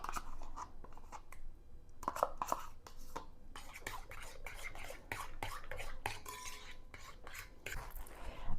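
Sour cream is mixed into a casserole in a bowl: a utensil scrapes and clinks against the bowl in scattered soft taps and swishes, close by and fairly quiet, with no voice.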